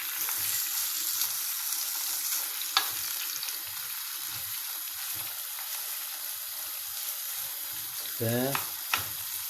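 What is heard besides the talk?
meat frying in melted oil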